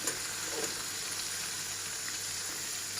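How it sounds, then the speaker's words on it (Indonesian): Spices sautéing in a pan for Jepara-style pindang serani, a steady, even sizzle of frying close up with soft stirring, no voices. "Ini kita tumis sampai harum ya, sampai bau lengurnya itu hilang"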